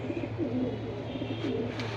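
Pigeons for sale cooing in low, rolling bursts over a steady background hum, several birds overlapping continuously.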